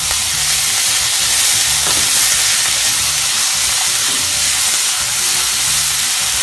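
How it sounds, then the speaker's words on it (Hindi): Chinese cabbage and mixed vegetables are sautéed in a hot pan for chicken noodle soup, giving off a steady, loud, close sizzle with faint stirring scrapes and no one speaking. "इन सभी को हमें थोड़ा सा सौते करना है।"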